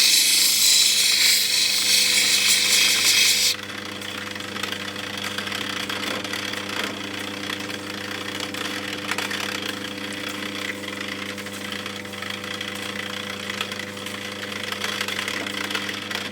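A grinding wheel polishes a natural Ethiopian opal, giving a steady motor hum with a bright, hissing grind for the first few seconds before it settles into a constant whirring drone.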